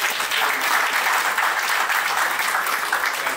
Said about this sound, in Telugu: Please give big claps.